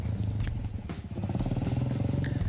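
A motorcycle engine idles to warm up, giving a steady, close, low chugging rumble throughout with a faint clatter on top.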